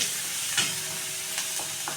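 Chili-garlic paste with dal fries in hot oil with a soft, continuous sizzle, broken by a few quick stirring scrapes, quiet and close with no voices.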